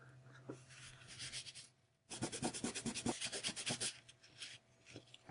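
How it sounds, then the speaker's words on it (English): A kneaded eraser rubs briskly over watercolor paper, close and dry, a few soft strokes then a pause followed by a rapid run of scrubbing back-and-forth passes. "Clean it up a bit with the kneaded eraser."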